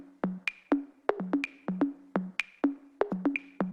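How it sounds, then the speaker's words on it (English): A bouncy electronic rhythm loop from a remix track, with steady plucked low notes punctuated by sharp high clicks in a tight repeating groove, played alone and clean. "We found a few good rhythm loops. Like this one really drives the whole track"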